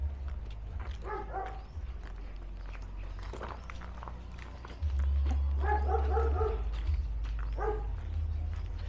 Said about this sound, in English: So some dogs are barking.